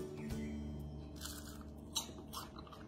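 Crispy fried zucchini flowers stuffed with provola crunch in a few faint, brief crackles close up over a steady kitchen hum, with no talking.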